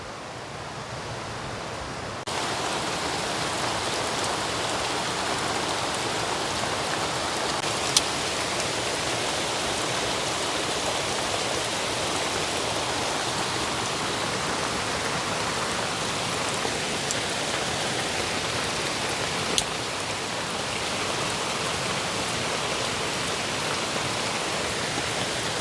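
Steady heavy rain pours over a forest camp during a solo survival stay in windy, overcast weather, a dense even hiss running throughout with a couple of faint ticks and no speech.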